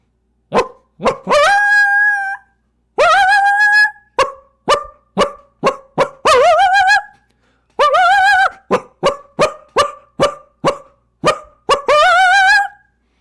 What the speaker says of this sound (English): there is a distinct, unique call for the presence of a wolf that a coyote uses